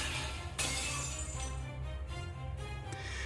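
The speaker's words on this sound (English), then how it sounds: "The crystalline barrier shatters under the deadly rain of so many weapons" A crystalline glass barrier in the Fate/Stay Night video game shatters with one sudden burst. A long, glittering ring of falling shards trails off over steady low background tones.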